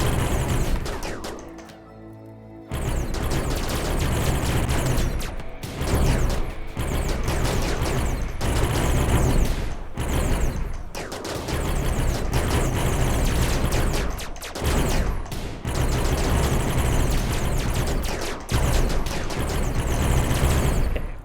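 Gunfire crackles through a RimWorld battle near a ship, bursts of shots and impacts stacking into a dense, loud, continuous barrage with brief lulls, no voices over it.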